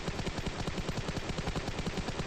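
Rapid automatic gunfire from the mobile battle royale game PUBG Mobile, a dense, steady burst of shots in quick rhythm, loud and continuous with no talking.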